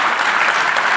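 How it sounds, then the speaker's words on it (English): Steady audience applause fills a keynote hall at the HITRUST Collaborate 2024 conference, a dense, continuous wash of clapping at close range with no voices over it. "big round of applause to HITRUST and bringing us all together."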